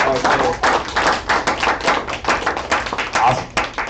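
Comedy club audience clapping their hands after a stand-up set, a lively continuous round of fairly close, loud claps with uneven pulses throughout.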